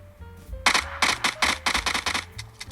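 Gunshots from a mobile shooter game through the speaker of a Realme GT Neo 3T phone, a rapid burst of about ten sharp, evenly spaced reports at close range with no talk over them.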